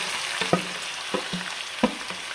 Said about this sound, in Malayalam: ഇനി അതിലേക്ക് നമുക്ക് ഇഞ്ചി, പച്ചമുളക്, തക്കാളി, വെളുത്തുള്ളി, പിന്നെ ചെറിയ ഉള്ളി ഇതെല്ലാം ഒരുമിച്ച് തന്നെയാണ് ഞാൻ ഇട്ട് കൊടുക്കുന്നത്